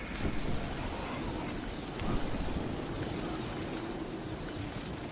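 Steady broadband rush of ocean water and wind in the Fortnite Battle Royale video game, loud and continuous with a slight swell near the start and again around the middle, no talking over it.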